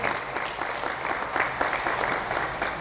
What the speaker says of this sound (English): Let's give Caroline another round of applause.